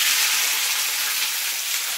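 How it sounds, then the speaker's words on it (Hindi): Thick chillies frying in hot oil give a steady, bright sizzling crackle, continuous and fairly loud throughout, with no voices. "और सबसे पहले हम मिर्ची फ्राई करेंगे"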